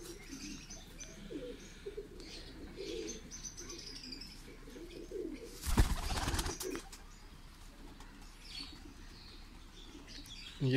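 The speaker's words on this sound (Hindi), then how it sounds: "बहुत बड़े कुंदे का कबूतर है माशाल्लाह और वेटलेस कबूतर है बिल्कुल।" Large lightweight breeding pigeon in a loft, soft low cooing repeated faintly and close, with one brief loud burst of wing flapping midway.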